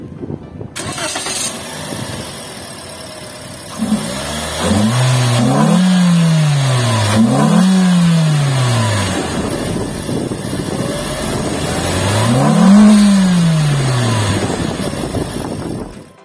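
A Toyota Yaris hatchback's 1.5-litre 2NR-FE dual VVT-i engine with CVT cranks and catches, then revs up and down in three rising-and-falling sweeps with a steady idle between, close and loud.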